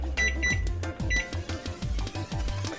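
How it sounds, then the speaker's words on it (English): A kitchen timer is set with a run of quick beeping button presses in a steady rhythm, close and fairly loud, while crescent rolls bake. "I need to set my timer now that I'm thinking about it."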